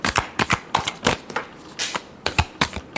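A deck of tarot cards is shuffled by hand in quick, close bursts of crisp riffling and slapping, about a dozen sharp flurries in rapid, uneven rhythm with no talking.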